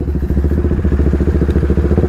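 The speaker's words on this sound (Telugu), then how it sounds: "మళ్ళీ నేను ఇంకొకసారి డ్యూక్ లాంచ్ చేస్తా, ఆయన జీటీ లాంచ్ చేయమంట" Tuned KTM Duke 390 and Royal Enfield GT 650 motorcycles idle with a loud, steady, throbbing engine pulse close by, the uneven rapid beats holding constant throughout with no clear rev rise.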